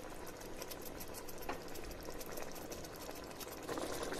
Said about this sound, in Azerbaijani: Təxminən 2-3 dəqiqə bu qaydada qaynayır.